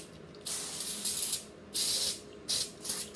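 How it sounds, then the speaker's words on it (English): Aerosol spray hisses onto a stainless steel tumbler in three short bursts separated by brief pauses, close and sharp, with no talking. "And you're just going to spray the cup."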